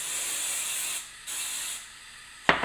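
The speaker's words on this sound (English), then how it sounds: "So now, you want to take a little bit of hairspray." Hairspray mists onto hair in short aerosol bursts, two hissing sprays with a brief pause between them, close and clear, followed by a quick click from the can.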